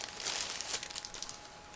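Resealable plastic bag holding model kit sprues being pulled open, a brief close crinkling and rustling of thin plastic.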